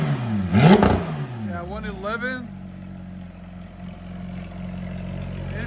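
A 2019 Porsche 911 GT3 RS with a muffler delete, still not fully warmed up, revs loudly in one sharp burst, then settles into a rising and falling engine note and a steady idle, with people talking close by.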